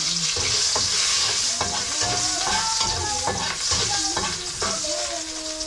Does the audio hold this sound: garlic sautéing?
yes